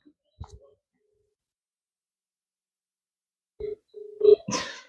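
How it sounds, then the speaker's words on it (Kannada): A phone dialing out from near silence: a few short electronic tones and beeps in quick succession, then a brief burst of ringback or connection noise at the end. "ಅವ್ರ ಅಮ್ಮಗೆ ಫೋನ್ ಮಾಡ್ತಿದ್ದಾರೆ"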